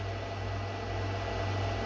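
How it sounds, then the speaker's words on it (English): A steady, unbroken electrical hum with a low drone and even noise from a microwave oven running on a 2000W off-grid pure sine wave inverter, constant throughout with no voices. "I just went and turned the microwave on"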